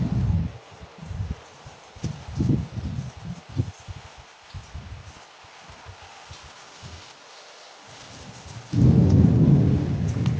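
The year's first rain in Kolkata brings deep rumbles of thunder rolling in uneven bursts over a steady hiss of rainfall, which swells louder near the end, with no voices.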